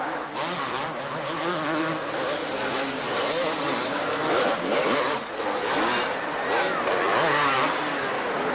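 Motocross bikes race at the 1984 Dallas Supercross, a dense, continuous buzz of small two-stroke engines revving and droning together, steady and moderately loud with a distant, crowd-filled stadium feel.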